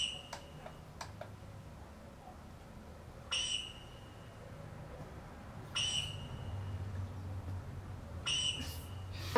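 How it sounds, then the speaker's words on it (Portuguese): A sharp, shrill whistle blown in short bursts, about four blasts spaced a few seconds apart, over a low steady background rumble. "E soprou de novo seu apito."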